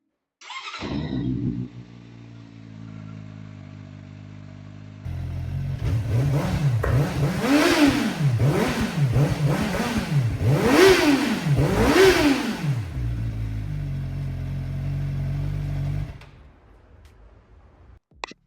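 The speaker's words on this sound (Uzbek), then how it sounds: "Mana shunaqa chiroyli tovushga ega bo'lgan mototsikl." A CF Moto four-cylinder motorcycle engine idles, then is revved repeatedly in rising and falling sweeps before settling back to a steady idle, loud and close with no talk.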